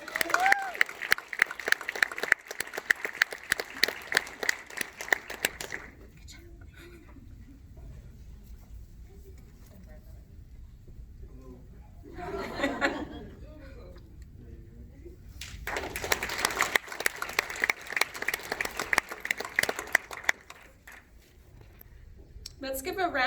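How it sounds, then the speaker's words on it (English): Audience applause for winter and spring 2020 graduates of a photography program, a burst of clapping that fades to quiet, then a short murmur before a second round of clapping swells and dies away. "Let's give a round of applause to all of our winter and spring 2020 graduates."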